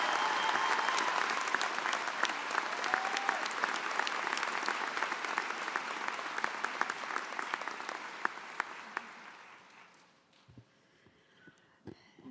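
A large crowd at a college of pharmacy commencement ceremony applauds in steady, dense clapping that holds for about ten seconds, then thins and dies away.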